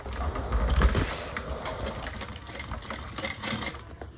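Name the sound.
sewing machine stitching a bag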